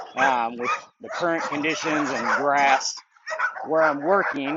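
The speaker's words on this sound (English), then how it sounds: "Going to be background barking." Dogs bark intermittently in the background of an outdoor grassy work area on an early morning, faint and partly masked while a person talks over them in the foreground.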